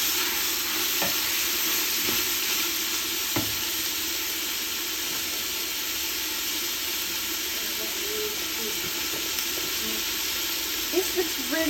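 Zucchini and mixed vegetables fry in a pan with a steady steamy sizzle and hiss, while a utensil stirs and scrapes now and then and a few faint clinks sound near the end.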